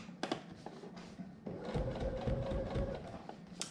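Sewing machine with a zigzag foot, running at a longer stitch length and lowered thread tension, whirring steadily in the second half after a few short handling clicks and taps.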